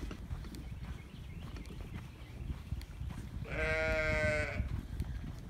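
A sheep on a farm lets out a single loud bleat lasting about a second, rising above a steady outdoor rumble and faint background noise, with no talking.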